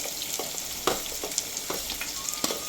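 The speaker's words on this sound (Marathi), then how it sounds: "आता कांदे टाकू, बारीक कट केलेला" Finely chopped onion frying in a pan, a steady close sizzle broken by several sharp scraping stirs, with no talking.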